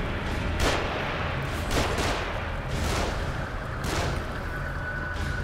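Enemies firing from above in the survival horror game The Evil Within, a series of sharp, loud gunshots every second or so over a constant rumbling background, with no talking.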